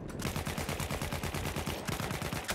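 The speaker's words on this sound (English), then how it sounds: "I'm being shot in the back." Rapid automatic gunfire in the video game Battlefield 1, a dense, fast burst of loud shots at an even rhythm with a brief pause near the end, heard alone.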